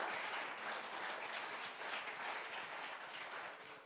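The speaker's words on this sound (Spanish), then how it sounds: "den un aplauso al Señor" A church congregation applauds the Lord during a Spanish-language worship service, a steady wash of many hands clapping that holds evenly throughout and eases slightly at the end, with no voices on top.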